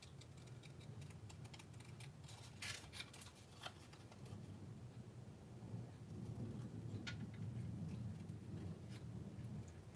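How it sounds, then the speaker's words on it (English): Low, continuous rumble of distant thunder or a jet passing high overhead on a sunny day, swelling slightly in the second half, with faint scattered clicks and rustles nearby. "there's either a jet flying overhead or there's thunder on a sunny day"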